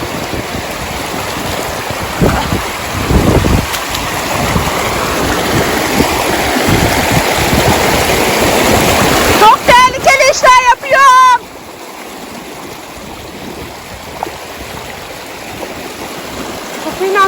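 A flowing village creek rushes loudly and continuously, with splashing as someone wades across it and a few brief voices partway through.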